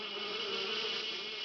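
Mosquitoes in a Ninja Hattori cartoon make a continuous high, dense buzzing swarm, steady and close, with no talking.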